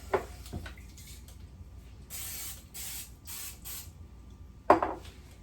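Several short bursts of hissing cooking spray, each lasting about half a second, with a sharper clatter near the end and faint kitchen sounds between.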